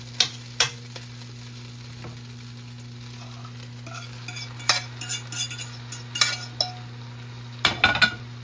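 A utensil scrapes and clinks in a pan as sauteed shrimp is stirred into vegetable fried rice, irregular close taps over a soft sizzle and a steady low hum.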